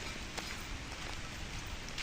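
Rain still fairly light falls in a soft, even patter with a few scattered drops, faint and continuous, with nothing else standing out.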